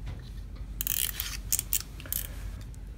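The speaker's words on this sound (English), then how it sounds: "we can just shimmy the blade back and forth to expose the graphite alone" A blade shaving wood off a pencil to expose the graphite, heard as close, quiet scraping strokes in short bursts of rasping, back-and-forth cuts over a low background hum.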